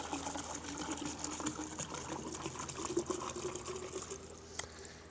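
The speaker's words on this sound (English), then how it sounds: "So we simply put water in it," Tap water being poured into a homemade apparatus, a quiet, uneven stream of gurgling and splashing liquid with a faint mechanical hum behind it.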